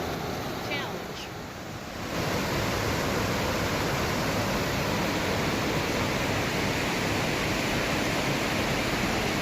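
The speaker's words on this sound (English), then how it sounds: "This is by far the closest view of the waterfall in the whole park." Linville Falls pours in a dense, continuous roar of rushing water, very close and loud, with a quieter stretch at the start before the full wash of sound takes over.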